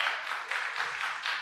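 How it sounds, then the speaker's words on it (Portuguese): Theatre audience applauding after a stage performance, a short, faint wash of many hands clapping steadily with no voices over it. "Salva de palmas."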